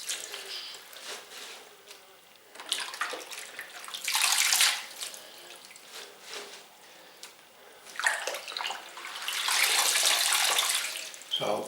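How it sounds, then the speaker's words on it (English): Spinach being washed in a kitchen sink of clean water, with running and splashing water in long surging washes and quieter trickling gaps, close by. "put clean water into the sink, wash again"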